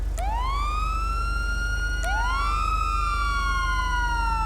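A video game police car siren wails, sweeping up and then slowly falling, repeating twice, steady and fairly loud over a low constant hum.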